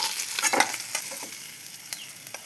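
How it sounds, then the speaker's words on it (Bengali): Katla fish frying in hot oil, a steady close sizzle with bursts of spitting and stirring scrapes, no voices. "এভাবেই সব মাছগুলো ভেজে নেব"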